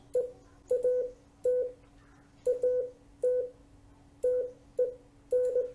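Morse code characters sent at 20 words per minute with Farnsworth spacing: crisp close beeping tone groups of dots and dashes separated by long, stretched gaps, alone without talk.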